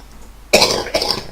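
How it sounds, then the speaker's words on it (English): A man with COPD breaks into a short coughing fit, two harsh close coughs in quick succession after a moment of quiet. "I'm going to go into a bloody coughing fit."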